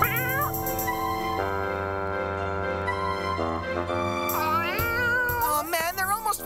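A cartoon cat meows and caterwauls loudly over a music bed, long drawn-out tonal yowls rising and bending in pitch, close and prominent throughout.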